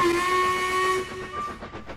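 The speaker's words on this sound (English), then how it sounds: "No respectable engine whistles loudly in stations." A steam engine in a railway station blows a loud, steady whistle for just over a second. The sound then fades into softer hissing and puffing.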